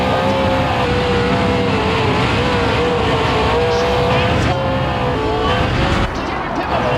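Sprint cars race around the Knoxville Nationals dirt track on the final lap, a loud, continuous engine roar with steady high-pitched whine and a brief dip near the end; an announcer talks over it.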